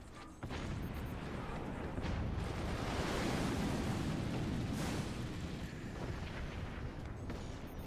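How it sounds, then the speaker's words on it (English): Howitzer shells land in the Forts strategy game, producing a broad, continuous rumbling roar of impacts that swells and then eases, with no distinct separate blasts. "The howitzers land and deal some damage."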